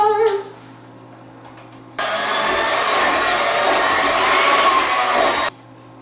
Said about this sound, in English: So now I'm just gonna mix that in with my mixer.